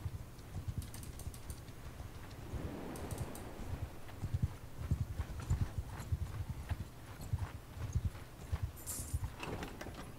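Horse hooves clip-clop in a steady walking rhythm in Mount and Blade II, up close, with a faint airy whoosh partway through and no talking.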